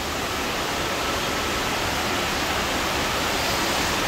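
Water roars in a steady, loud, continuous rush, like a big tipping bucket pouring down in an indoor water park's kids' section.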